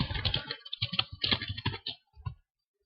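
Rapid typing on a computer keyboard, a close burst of clustered key clicks that slows into a few scattered taps before stopping.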